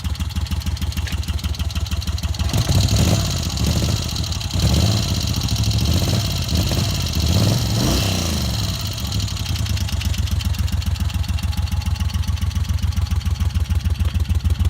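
A 1988 Moto Guzzi Mille GT engine runs steadily through its original, barely broken-in exhaust with a low, throbbing note, briefly rising and falling as it revs before settling back to idle.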